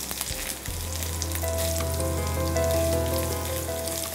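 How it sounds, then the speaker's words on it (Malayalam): Finely chopped onion sautés in a pan for a beef and lentil vada, giving a steady, close sizzle and crackle of frying under a low hum, without any talking. "ഇനി സവാളയും കൂടി ഒന്ന് ചെറുതായിട്ട് വഴണ്ട് വാടി കരട്ടെ."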